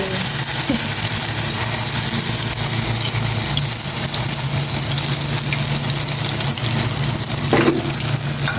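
Eggplant frying in a pan of hot oil, a steady dense sizzle that runs throughout at close range with a brief louder crackle near the end and faint background noise.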